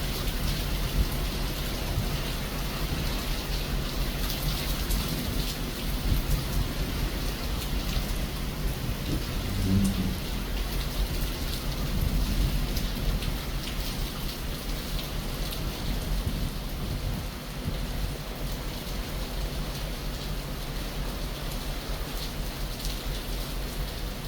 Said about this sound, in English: the ocean is kind of, it's almost smoothed out a little bit because of the rain coming down